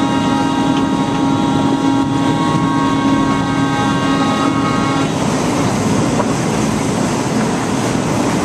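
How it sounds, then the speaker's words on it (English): A tonal horn from an amphibious duck tour boat rounding a bend near a lock in Boston, sounding steadily and loudly for about five seconds over engine and water rumble, then fading into broadband motor and wind noise. "I'm going to beat the horn as we go around the bend, just to warn any other boats"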